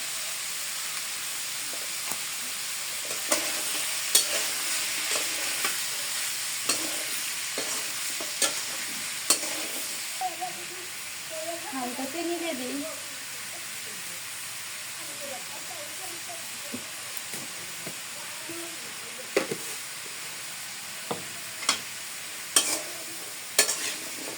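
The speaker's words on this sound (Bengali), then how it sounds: "辣椒炒鸡，辣椒炒鸡。" Chicken with chili stir-fried in a pan: a low sizzle under a string of sharp spatula scrapes and clinks, with brief soft vocal sounds partway through.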